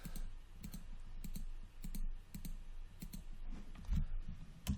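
A computer mouse clicks repeatedly during 3D modelling in Maya, sounding as sharp, close, quiet clicks in an uneven series over a faint background hum, with no talking.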